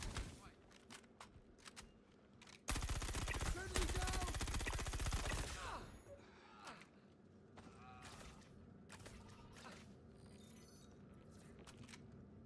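Rapid gunfire in the Star Citizen first-person shooter, a loud sustained automatic burst lasting a few seconds, followed by scattered single shots and softer clatter at lower volume.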